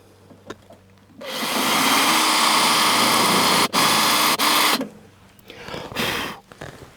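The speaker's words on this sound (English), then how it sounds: "Now I'm going to start the hull with the smaller bit again." A power drill with a small bit bores a hole in metal on a vehicle being restored, a loud steady whirring roar for about three and a half seconds with two brief stops, then quieter handling sounds.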